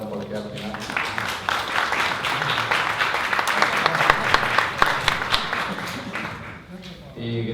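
An audience applauds steadily, a dense wash of clapping with voices mixed in, swelling slightly before tapering off at the end.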